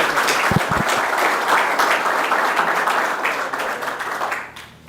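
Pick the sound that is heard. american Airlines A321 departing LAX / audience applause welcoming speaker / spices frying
audience applause welcoming speaker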